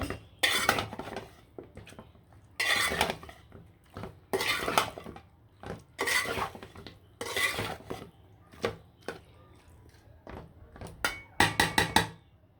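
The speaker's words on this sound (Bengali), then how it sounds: "মাংসগুলো দিয়ে খুব ভালোভাবে লাড়াচাড়া দিয়ে দিব মশলার সাথে একদম মাংসটা মিশিয়ে নিব" Meat being stirred together with spices in a cooking pot: a series of metallic scrapes and clinks from the spoon against the pot, coming in irregular bursts with short pauses, close and fairly loud, with no talking.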